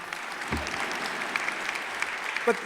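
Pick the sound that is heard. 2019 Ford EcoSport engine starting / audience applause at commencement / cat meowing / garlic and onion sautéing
audience applause at commencement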